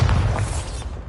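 A Bombarda spell explodes in Hogwarts Legacy as a short, loud, bass-heavy boom with a brief rumbling decay.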